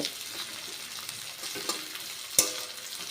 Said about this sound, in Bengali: লো টু মিডিয়ামে রেখে এগুলো আমি এখানে ভেজে নেব।